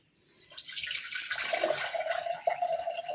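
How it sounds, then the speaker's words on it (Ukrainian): Water poured off jars of tomatoes in a steady trickling stream, starting quietly and building into a continuous splashing flow. "зливаю я воду"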